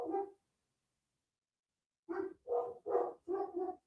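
Dogs bark outside in short, hoarse bursts, one bark then a pause followed by a rapid run of four barks, moderately close and clear with no talk over them.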